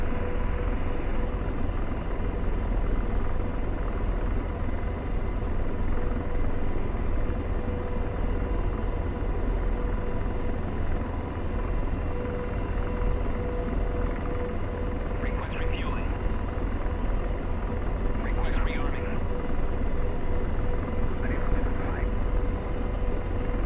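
An AH-64 Apache helicopter idling on the ground while rearming in the DCS World combat simulator, a continuous low turbine rumble and whine that stays steady throughout, with a few faint chirps and no talking.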